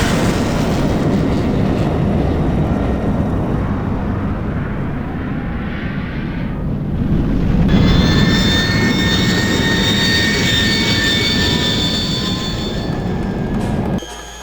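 Jet engines of an airliner roar in a steady, loud, continuous rush throughout, with a high whine emerging partway and a brief drop at the very end; no one speaks.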